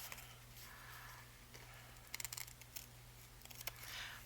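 Paper scraps trimmed off an envelope journal with scissors: a short cluster of crisp snips around the middle, a few more near the end, close and fairly faint over a steady background hum.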